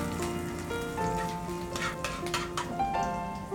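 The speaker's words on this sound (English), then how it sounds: "First, I'm going to flavor it with some finely chopped garlic and some finely chopped green chilies as well. Saute this for like 10 seconds." Finely chopped garlic and green chilies sautéing briefly in a pan for a vegetable and basil soup: a light, crackling sizzle with occasional spoon scrapes, heard close under steady background music.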